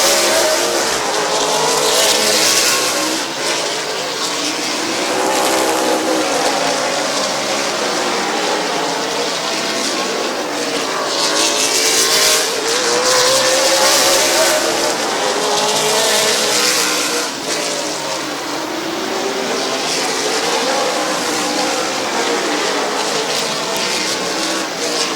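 Race cars thunder around Midvale Speedway in traffic, a dense, loud, continuous roar of engines with swelling passes and tire noise, no voices standing out.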